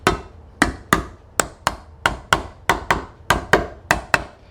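A small hammer taps around the metal lid of a paint can to seat it closed, giving about a dozen sharp, evenly spaced close-up knocks, each ringing briefly.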